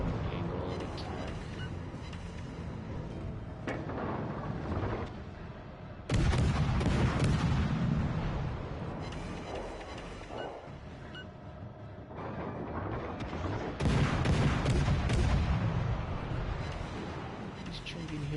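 Warship guns boom in a naval battle video game set at the 1941 Denmark Strait engagement, with two heavy blasts several seconds apart over a constant low engine and sea rumble.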